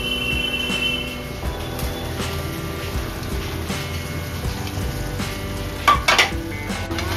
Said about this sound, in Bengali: সবজিগুলো এবার আমি কড়াইতে দিয়ে দিই।